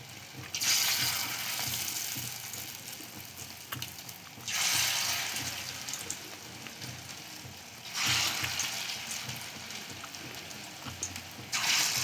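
Egg and prawn fritters frying in hot oil, a steady close sizzle that swells sharply as each new batch goes in, three loud surges over the continuous crackle.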